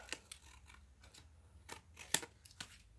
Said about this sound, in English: I'll just trim a little bit off.